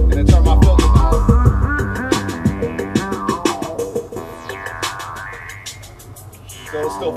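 Music run through a delay effect on a Rane Sixty-Eight DJ mixer while the filter knob sweeps, rhythmic echoing repeats that thin out and fade, then the sound swells back at the end.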